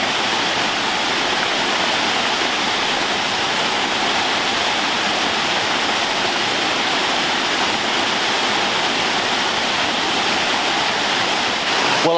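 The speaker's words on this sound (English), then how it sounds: "I think I hear the sound of a waterfall" Near Yester Castle in East Lothian, Scotland, a waterfall roars as a loud, steady, unbroken rush of falling water, with no voices.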